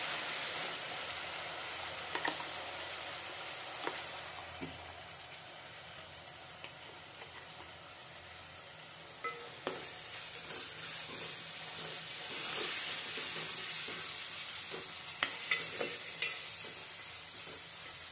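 Ground masala paste for a chicken curry sizzles softly in a pan, with occasional scraping clicks from stirring over a steady hiss.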